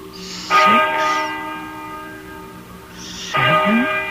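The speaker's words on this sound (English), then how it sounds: "Listen to that bell." A church bell tolls twice, loud and ringing, each strike followed by a long humming decay, with a sustained tonal drone beneath in a tense dramatized scene.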